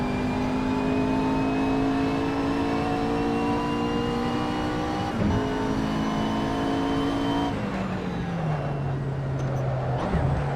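A race car in Assetto Corsa on the Nürburgring GP circuit revs loud and steady, its engine pitch climbing through the gears with a brief dip before dropping lower near the end.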